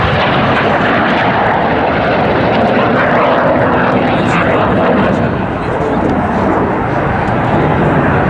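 The Red Arrows synchro pair of jets roar overhead at the Cosford air show, a loud sustained broadband rush of engine noise that swells and fades slightly, with a commentator talking over it.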